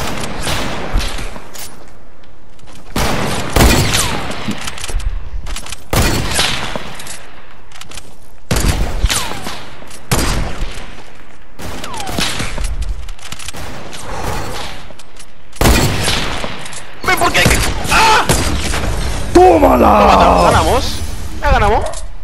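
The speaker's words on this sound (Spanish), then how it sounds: "Le metí dos tiros." Rapid bursts of video game gunfire crackle repeatedly over loud, excited talking, with shots clustered in quick volleys throughout.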